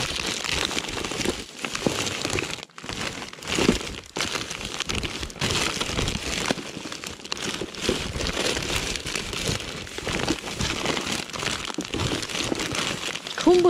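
Plastic bag being crinkled and handled outdoors while fishing, a dense continuous rustling and crackling that stays loud throughout, with a few brief louder crunches.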